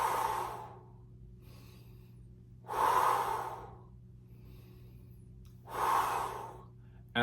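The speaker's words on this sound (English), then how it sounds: "After 30 seconds of breathing like that, you'll resume your normal balanced breathing." Slow breathing exercise in a 1-to-3 ratio: three loud, close breaths sound alone at even intervals, each a sharp inhale that slides into a long, drawn-out exhale, with quiet pauses between them.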